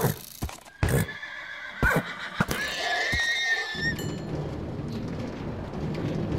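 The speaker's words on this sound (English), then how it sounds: "If this horse would get out of the way." A horse in the Minecraft game neighs loudly in a drawn-out whinny, mixed with sharp hoof clops, and then steady rumbling movement noise follows.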